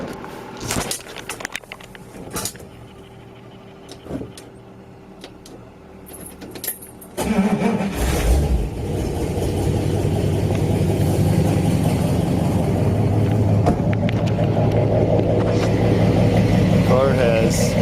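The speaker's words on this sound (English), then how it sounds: "let me just fire the car up and let you listen to it." A few metallic jingles and clunks, then a 1950 Oldsmobile wagon engine with dual 3-inch exhausts and Flowmaster mufflers cranks and catches, settling into a steady, deep idle rumble that continues to the end.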